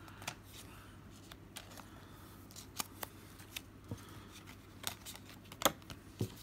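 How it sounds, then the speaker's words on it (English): Yu-Gi-Oh trading cards being slipped into sleeves make faint, intermittent plastic slides and soft clicks, scattered irregularly in a quiet room. "I'm about to be sleeving these cards up before we open up the last pack"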